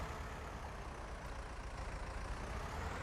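A tractor engine in a farming video game idles in a steady, low, continuous rumble, fairly quiet and unbroken, with no talk.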